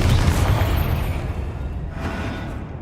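A Confringo fire spell in the Hogwarts Legacy video game detonates with a deep, rumbling boom at the start, then a long, fading roar and a second, softer burst of rumble near the end.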